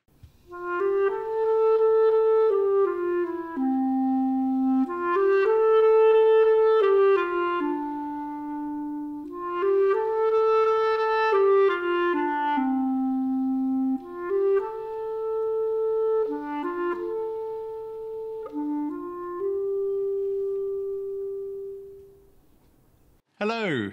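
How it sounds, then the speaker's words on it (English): A solo clarinet plays a slow, legato melody of sustained notes, close and clear, with no talking. "and I play the clarinet"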